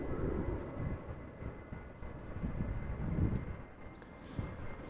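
A Ryanair Boeing 737-800 taxiing at Amsterdam Schiphol produces a steady low, rumbling jet whine heard from a distance, rising and falling slightly over a few seconds.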